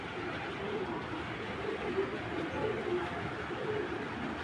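Soft, low pigeon coos repeat several times against a steady background hum, faint and fairly close, with no talk.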